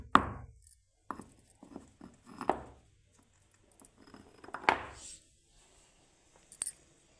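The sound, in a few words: pounding cardamom for tea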